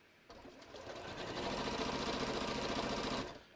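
A sewing machine stitches a standard zigzag across a handmade holiday card, starting abruptly and running steadily for about three seconds at a close, rapid whir before stopping.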